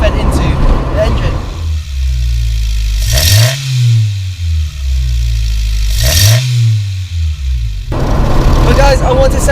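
A Honda Civic EK4 with a B18C6 engine on individual throttle bodies accelerates hard, loud and close, its tone rising in repeated sweeps through gear changes with brief dips between pulls.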